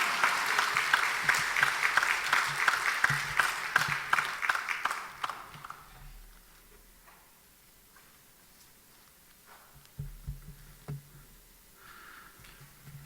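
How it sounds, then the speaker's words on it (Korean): A church congregation at a Sunday evening service claps warmly to welcome a visiting pastor. The applause is loud and dense for about five seconds, then fades out into near quiet with a few faint scattered sounds. "뜨겁게 박수하면서 할렐루야로 영접하도록 하겠습니다."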